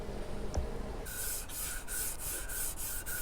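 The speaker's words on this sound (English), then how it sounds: "Just rubbing it down lightly with fine wet and dry" Fine wet and dry sandpaper lightly rubbing down orange-peel paint on a Philips Model 353A FM radio under restoration: steady back-and-forth rasping strokes, close and even, about seven passes in a regular rhythm, with no talk.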